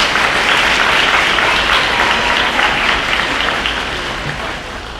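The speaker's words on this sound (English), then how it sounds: "Graduates, will you please give them the round of applause that they deserve?" A crowd at a nursing pinning ceremony breaks into loud, sustained applause, a thick wash of clapping that holds steady before easing slightly toward the end.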